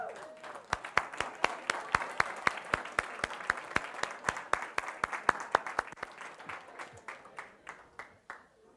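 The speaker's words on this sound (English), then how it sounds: "We want to give you a round of applause." A modest audience at a Tech Day event applauds with distinct, rhythmic claps that are clearly separable and fairly close, over a faint background murmur, gradually thinning out toward the end.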